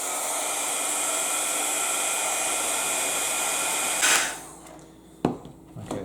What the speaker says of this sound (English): we have a little heat gun right here. So we'll just hit it with some heat and then bend it into a kind of a natural shape.